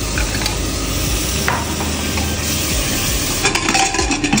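Garlic, onion, potato, ginger and green chili sautéing for a goat dish: a loud, dense sizzle with stirring scrapes and a few clinks of utensil on pan.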